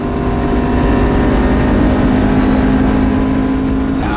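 A classic Marcos race car accelerates hard on the Snetterton circuit, its engine loud and close with a steady rising drone throughout, no voices.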